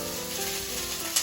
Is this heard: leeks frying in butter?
yes